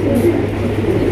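A large pigeon gives a loud, close, low, throaty coo that carries through the short moment.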